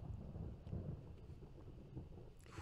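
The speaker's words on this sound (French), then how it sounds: "Foutu orage." Rumbling thunderstorm noise heard during a Resident Evil game session, a continuous low roar with a slight swell and no speech over it.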